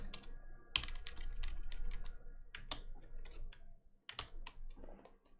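A computer keyboard is typed on in quick, irregular bursts of clicks, close and fairly quiet, with short pauses between runs of keystrokes.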